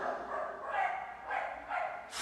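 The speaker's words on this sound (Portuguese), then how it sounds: "Ai, que cachorro chato." A dog yaps indoors in a few short, moderately faint barks spaced through the moment, sitting in a quiet room background.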